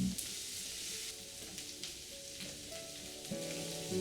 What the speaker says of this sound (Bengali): ফ্লেমটা মিডিয়াম রেখেই এই রসুনটাকে আপনারা ভালো করে ভেজে নিন।